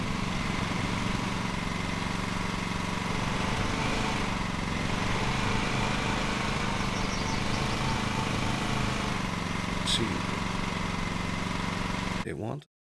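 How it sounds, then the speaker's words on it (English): A lawn mower engine in the Lawn Mowing Simulator video game runs at a steady drone for several seconds, loud and continuous, before cutting off abruptly at the end, with no speech over it. "Start your engine."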